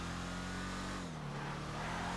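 A Tampa GT, a heavy late-1960s-style muscle car in GTA Online, roars close by with a deep, steady engine note that dips in pitch midway as the gear changes, and no one speaks.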